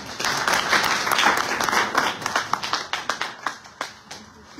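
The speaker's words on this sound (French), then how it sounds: "Veuillez vous applaudir." Audience applause at a political rally in Italy, a crowd clapping loudly at first, then thinning into scattered individual claps toward the end.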